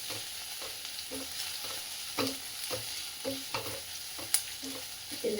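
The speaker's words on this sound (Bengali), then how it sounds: "রসুনটা আর পেঁয়াজটা কিন্তু বেশ ভালো করে একটু নেড়ে নেব" Garlic and onion frying in a pan, stirred in repeated scraping strokes over a soft, steady sizzle, heard up close with no voices.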